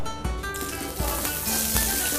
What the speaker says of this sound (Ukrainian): зараз готуватимемо з допомогою теплової обробки на сковорідці та олії наше куряче філе